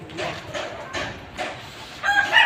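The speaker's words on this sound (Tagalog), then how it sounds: "Daghan na dig manok no timan diri bay." Chickens clucking in short repeated bursts at a backyard spot, then a rooster's crow rising at the end, near and fairly loud against outdoor background.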